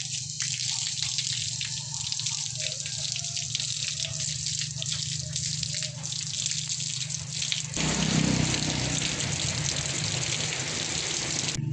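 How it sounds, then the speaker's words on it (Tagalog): Water pours and splashes over a Rock Bros bike light during a splash test. A steady, hissing faucet-like stream runs throughout, turning heavier and more splashy partway through, fairly quiet and without speech. "So ngayon i-water splash test po natin ito."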